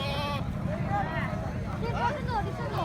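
Fat-tailed dumba sheep and goats bleat at the Mirpur Khas livestock mandi, several wavering calls rising over a steady market murmur while someone talks nearby.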